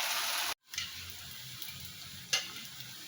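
Urad dal vadas deep frying in hot oil, a steady bright sizzle with a brief cut near the start and a sharp clink of a utensil later, no talk.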